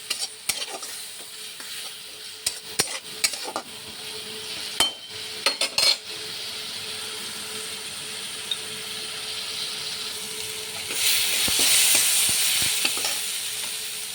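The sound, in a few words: sautéing spice masala in a pan for egg curry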